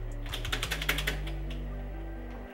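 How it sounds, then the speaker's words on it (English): Keys are pressed on a Ducky One 2 Mini mechanical keyboard fitted with dampening bands under the keycaps, a quick run of close, crisp clicks over a steady low hum, then quiet. "I'm just pressing down on these keys"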